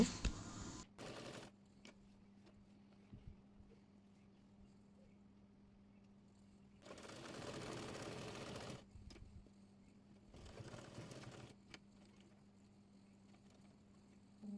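A sewing machine stitches the neckband fabric of a baby kaftan in three short rattling bursts, separated by quiet stretches of faint motor hum, close and fairly soft.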